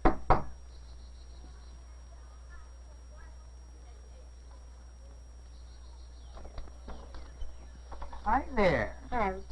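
A door is knocked on, with a couple of sharp raps at the very start, followed by a quiet stretch and then people talking.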